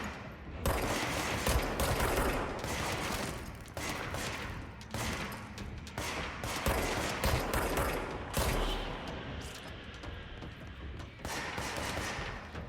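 Enemy gunfire in the video game Control: dense, sustained volleys of shots crackle almost without pause for about thirteen seconds, loud and close, with brief dips between bursts.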